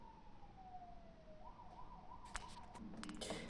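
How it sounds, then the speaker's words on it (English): Ambulance siren passing at a distance, a faint wailing tone that slides down then switches to a rapid warble, with sharp clicks and rustling close by near the end. "Some ambulance came and I didn't want to stop recording."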